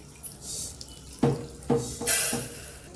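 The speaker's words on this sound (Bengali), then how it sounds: "ভাজা মুগ ডাল আর মসুর ডালটা আমি এবারে ভালো করে ধুয়ে নিব" Water runs and splashes in a sink as fried mung dal and red lentils are rinsed, with several short pours and sloshes in a row, close up.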